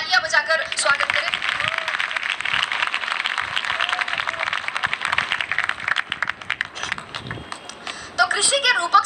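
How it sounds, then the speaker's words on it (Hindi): An audience in a hall at a motivational talk bursts into applause, a dense, sustained wash of clapping that fills nearly the whole stretch and tapers near the end. "एक बार तालियां बजाकर स्वागत करें"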